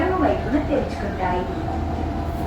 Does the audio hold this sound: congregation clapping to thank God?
no